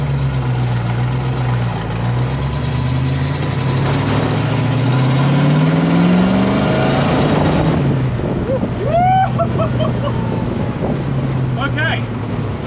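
A fire-damaged Mercury Comet GT engine droning under heavy wind buffeting on its first drive, revving upward through a gear before easing off, with voices talking in the car as the noise drops.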